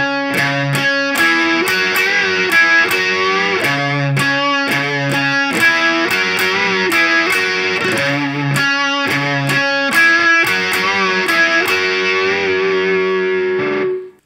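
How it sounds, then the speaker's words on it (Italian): Electric guitar solo with heavier distortion from a song, a loud run of sustained, bent notes and quick picked phrases, continuous throughout with no talking. "Quindi parte di assolo, dove abbiamo inserito una distorsione più pesante, sentiamo come suona."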